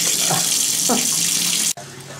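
Water runs steadily from a tap, a constant close hiss that cuts off abruptly near the end, with faint voices briefly underneath.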